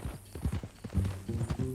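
Horse hooves clip-clop in Red Dead Redemption 2, a quick irregular run of hoof strikes on the ground, close and fairly loud, with the horse's faint snorting mixed in.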